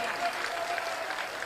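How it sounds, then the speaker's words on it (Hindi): An audience claps at a Hindu devotional gathering in Bihar, a steady, fairly soft patter of many hands with voices mixed in. "गर्व से एक बार बिहार के लोगों के लिए ताली बजानी चाहिए"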